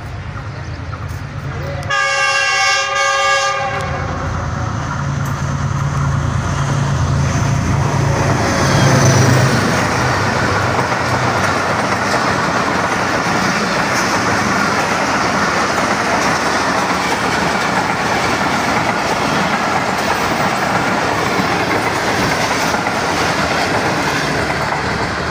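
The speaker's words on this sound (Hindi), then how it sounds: "देखते हैं ये यहाँ से किस स्पीड में पास होती है।" Jaffar Express passenger train of Pakistan Railway racing past at high speed, a long loud horn blast near the start, then a continuous heavy roar and rattle of coaches sustained close by for the whole stretch.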